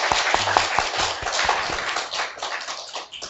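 A church congregation gives the choir a round of applause, a burst of uneven, sharp hand claps that thins out over a few seconds, fairly close and with no talking.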